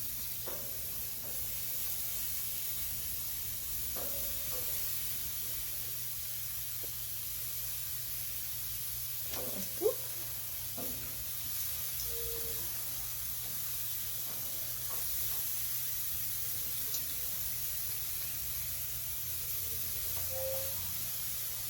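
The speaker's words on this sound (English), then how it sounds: "So I'm just gonna go ahead and put these on the grill. Grill is nice and hot." Lamb chops sit on a hot grill and give off a faint, even hiss that continues for the whole stretch. A few soft clicks and one small knock are scattered through it.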